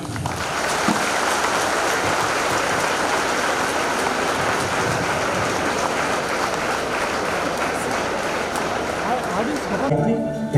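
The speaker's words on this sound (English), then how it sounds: "Give a big clap." A seated audience at a Microsoft India talk at NRIIT, Guntur, gives a big round of clapping, a loud, sustained, even patter lasting about ten seconds before cutting off.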